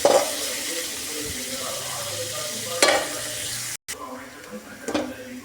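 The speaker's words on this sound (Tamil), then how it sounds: "பிரண்டையும் நல்லா எண்ணெயிலே போட்டு வதக்கி எடுத்துக்கலாம்." Pirandai (adamant creeper) sautéing in oil in a pan, a steady close sizzle with occasional scrapes of the spatula and a brief cut partway through, no talking.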